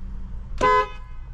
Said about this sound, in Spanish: ¿Y la bocina?